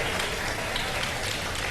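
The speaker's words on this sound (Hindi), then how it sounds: "बहुत सारी तालियां।" Dense applause from a studio audience at a Ramadan iftar TV show, a steady broad wash of clapping filling the short span with no talk over it.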